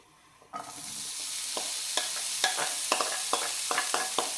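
Vegetables for a pork and soy sauce stir fry hit a pan of hot low-calorie spray oil with a sudden, loud sizzle after a brief quiet moment, then keep hissing steadily as a utensil scrapes and tosses them in a quick, irregular rhythm.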